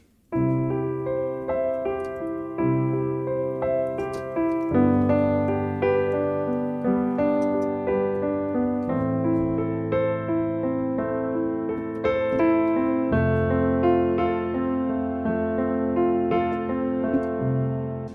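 Worship-song chord pattern on a sustained keyboard or piano, a slow progression of held chords changing every couple of seconds, with an added note woven in, played alone and evenly.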